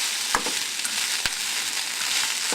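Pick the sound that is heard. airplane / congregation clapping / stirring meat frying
stirring meat frying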